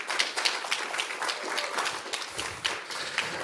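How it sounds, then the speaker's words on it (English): A lecture audience applauds together for a speaker, giving steady, moderately loud clapping that continues throughout. "can we just give a round of applause for Paige?"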